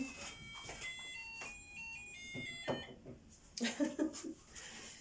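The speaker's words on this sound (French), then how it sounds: "il y a un réveil qui sonne" An alarm clock rings with repeated faint electronic tones, quiet and somewhat distant, while a person speaks over it.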